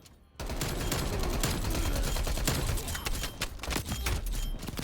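Milano submachine gun fire on Nuketown in Black Ops Cold War, a loud, sustained burst of rapid automatic shots that starts abruptly and runs almost the whole time, with faint game effects underneath.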